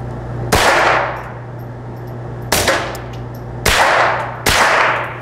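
Four sharp shots from a suppressed Ruger Mark IV .22 pistol crack out at irregular intervals, each snapping loudly and then fading with a short echoing tail, with a low steady hum underneath.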